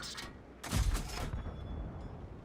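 A tank cannon fires in the online game World of Tanks, one loud booming shot followed by a rumbling, fading echo, with a mechanical whine in the background.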